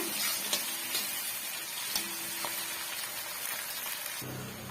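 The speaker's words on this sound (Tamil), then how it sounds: "வெங்காயம் வதங்கும் போதே கொஞ்சமாக கருவேப்பிலை சேர்த்துக்கலாம்" Onions and curry leaves sauté in a pan for a potato stir-fry, giving a continuous fine crackling hiss with occasional light taps and a brief low clatter near the end.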